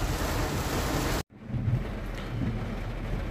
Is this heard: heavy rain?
yes